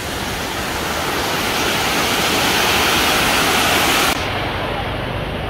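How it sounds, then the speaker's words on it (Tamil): Silver Cascade Falls in Kodaikanal, a waterfall nearly 100 feet high: a steady, loud roaring rush of falling water, continuous and close, with a slight change in tone near the end and no clear talk. "பேச போறது சில்வர் கேஸ்கெட் ஃபால்ஸ் பத்தி"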